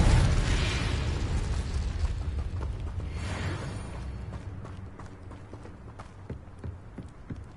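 Spell explosions burst in a Hogwarts Legacy battle: a loud blast opens and a second follows about three seconds later, then a fading rumble with scattered clattering footfall-like thumps.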